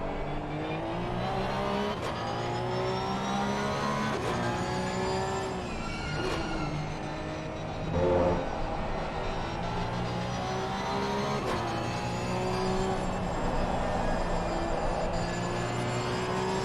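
A Porsche 992 Cup race car lapping the Zandvoort circuit, its engine note rising and falling steadily through gear changes, heard loud and continuous from inside the car.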